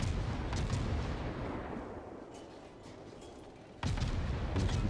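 Heavy warship guns boom in World of Warships, a loud salvo opening, its rumble fading over a few seconds before another powerful volley bursts in near the end, with no talk.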